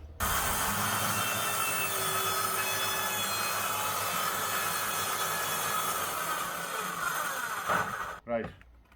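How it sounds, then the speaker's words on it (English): A saw trims the end of a wooden board for a fold-out step base in a VW Crafter campervan build, a steady continuous cutting noise running for several seconds before stopping, followed by brief handling knocks. "We're going to trim the end of this board right off and utilise this piece here for our base."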